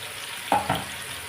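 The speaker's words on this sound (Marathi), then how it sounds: "खडा मसाला पण आपण परतून घेतो" Whole spices for chicken curry sautéed in a hot pan, giving a brief sizzle with two quick stirring scrapes over a low background hiss.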